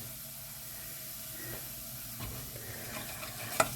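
Finely diced courgette cooking in a soup pot, a soft steady sizzle and hiss with a few light stirring scrapes and a small clink near the end.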